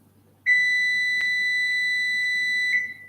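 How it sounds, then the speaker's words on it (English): A single electronic alarm tone sounds during a cooking session, a steady piercing beep lasting about two and a half seconds, loud and close in an otherwise quiet room, with a couple of faint clicks. "And we're going to have a beeping."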